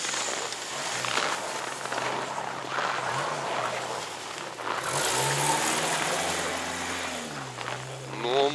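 An off-road vehicle drives through a sandy competition course, its mid-pitched engine droning steadily and then revving and climbing in pitch near the end, heard from a moderate distance without clear speech.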